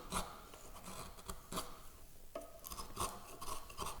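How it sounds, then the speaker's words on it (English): Hand chisel paring through a wooden bridle joint, giving a series of short rasping scrapes in an uneven rhythm, close up and fairly quiet with no voices. "I'm just going to work through it with a chisel like this"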